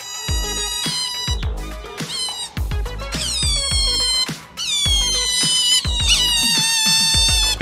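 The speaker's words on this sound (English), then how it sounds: "Have you ever heard otters meow like this?" Otters make a run of high, squeaky meow-like calls, loud and close, overlapping in quick succession with brief pauses between bursts.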